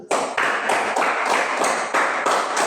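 A classroom of students claps in unison, sharp rhythmic bursts repeating about every third of a second, close and fairly loud, with no voices.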